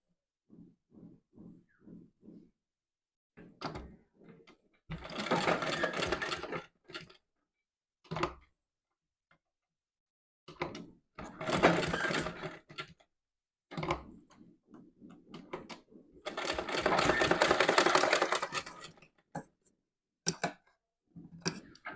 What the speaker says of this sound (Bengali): হয়ে গেল আমাদের সেলাই।